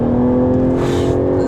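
A Jaguar F-Type V6 S sports car engine revs hard from inside the cabin, a loud, steady, throaty drone with a rasping burst of exhaust noise partway through, heard alone without talk.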